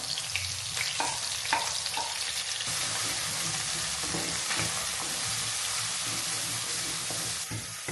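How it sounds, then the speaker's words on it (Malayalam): Sliced onions and curry leaves sizzle loudly in hot oil in a mutton fry pan, a steady bright crackle with occasional stirring scrapes throughout. "ഞാൻ അതിലോട്ട് ഈ ഉള്ളിയും ഇത് ഇടുന്നുണ്ട്. കറിവേപ്പില ഇട്ട് കൊടുക്കാം."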